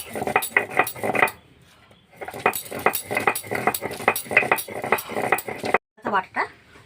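Coriander leaves being ground into a paste in a Bengali home kitchen, heard as repeated scraping and knocking strokes in steady bursts. A short pause breaks the strokes partway through, and speech is faint or absent.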